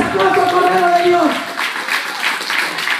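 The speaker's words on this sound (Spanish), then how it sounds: "Dale fuerte ese aplauso al Cordero de Dios." Church congregation clapping steadily through a sermon, a broad wash of applause with a preacher's voice audible over it during the first part.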